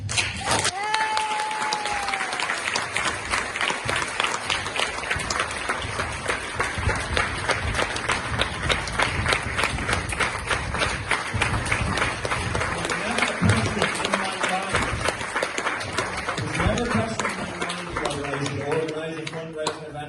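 A large crowd breaks into sustained, loud applause that runs for twenty seconds, thick and continuous, with brief voices surfacing through it and a louder voice near the end.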